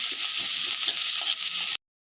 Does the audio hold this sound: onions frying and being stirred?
yes